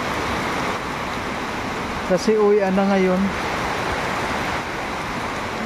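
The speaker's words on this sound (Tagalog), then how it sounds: "kanina pa po itong ulan na to" Heavy rain falls as a steady, broadband hiss throughout, with a brief tonal voice or horn near the middle.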